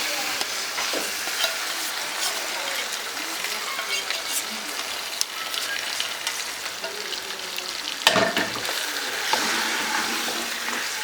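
Meatballs stirred into tomato sauce in a pan, a steady wet scraping and sizzling that runs throughout, with a sharper clatter of the utensil against the pan near the end.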